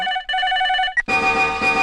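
A telephone rings in a steady electronic trill, pauses briefly, then a brighter, denser ringtone melody takes over, loud and close.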